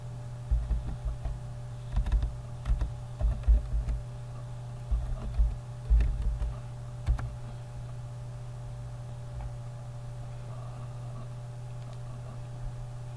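Keys tapped on a computer keyboard in bursts of soft close clicks for several seconds, then stopping, over a steady electrical hum.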